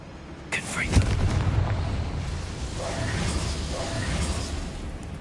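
A fiery spell blast in Hogwarts Legacy on PS5, a deep booming explosion with a sharp crack at the start and a rumbling tail, followed by softer blasts.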